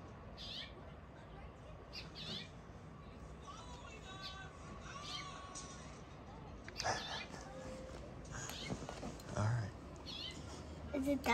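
A house cat makes soft chirping, trilling meows that mimic bird calls, in short scattered bursts over quiet background with a few faint sounds and rustles.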